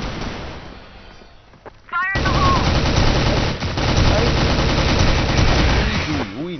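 M16 rifle fire in a video game: quiet movement sounds, then from about two seconds a loud, sustained automatic burst of rapid shots continuing nearly to the end, with a brief pause midway.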